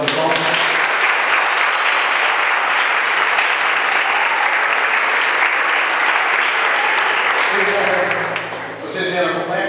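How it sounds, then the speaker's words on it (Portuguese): A church congregation gives loud, sustained applause for nearly nine seconds, dense and close, before it fades and a voice begins speaking at the end. "A igreja dá uma salva de palmas."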